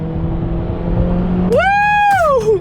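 A car engine revs after sport mode is engaged, rising quickly from a low steady hum to a loud, sustained whine for about a second before dropping back down.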